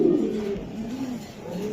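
A blue checker racing pigeon coos in low, throaty rolling phrases, close and fairly loud, with faint background noise and no talk.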